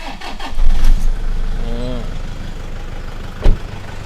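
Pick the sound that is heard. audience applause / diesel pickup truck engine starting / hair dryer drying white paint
diesel pickup truck engine starting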